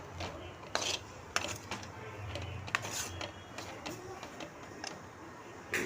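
Egg rice with coriander leaves being stirred in a pan, a spoon scraping and clinking against the metal in irregular taps and rubs, close and fairly quiet, with no voices.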